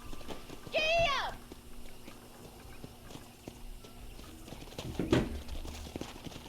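Horse hooves clip-clop at a steady walk in the Red Dead Redemption video game, moderately close, with a sharp whinny early on and voices talking over the hoofbeats later.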